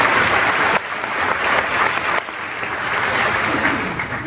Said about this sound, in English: I'd like to just offer a round of applause.